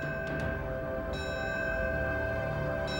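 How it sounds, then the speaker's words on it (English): A fire bell tolls at a World Trade Center memorial ceremony, a sustained metallic ring with long harmonic overtones that hangs in the air, with a faint fresh strike or two over the steady decay. "With the tolling of a fire bell and the sound of taps"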